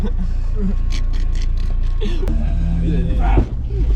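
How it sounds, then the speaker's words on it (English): A loose rear door of a car clangs and rattles during rough off-road driving, amid a steady engine rumble and bumps, with people talking and shouting over it. "back door clanging about"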